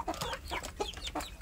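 Free-range village chickens cluck in a quick run of short, close calls, several soft clucks spaced closely over a second or so against quiet surroundings.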